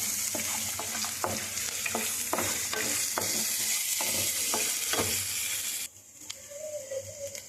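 Cumin, mustard seeds and turmeric sizzle in hot oil in a pan while a spoon stirs with a steady run of scraping strokes; the frying hiss cuts out near the end, leaving faint background birdsong.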